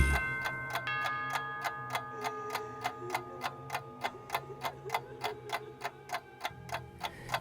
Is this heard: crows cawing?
no